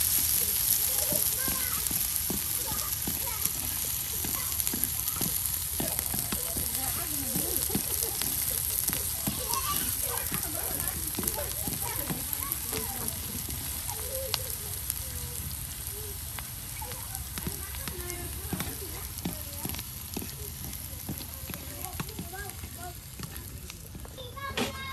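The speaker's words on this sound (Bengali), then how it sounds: "দেখুন একদম পেঁয়াজ রসুন একবারে তেলে ভাজি ভাজি হয়ে গেছে।" Onion and garlic fry in oil in a pan, a continuous close sizzle with crackling pops, occasional stirring scrapes, and a person talking over the cooking.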